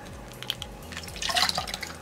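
Water holding live red mosquito larvae is poured from an opened bag into a container, a short soft splash and trickle with a few drips, quiet and close.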